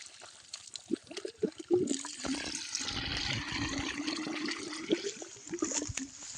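Water pours and splashes steadily into a solar water pump's hose, priming it, after a few clicks and knocks, a continuous gushing flow at moderate volume.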